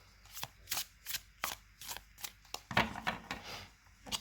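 A tarot deck being shuffled by hand, with a steady series of crisp papery riffles and card slaps repeating roughly every few tenths of a second, close and fairly quiet with no talking.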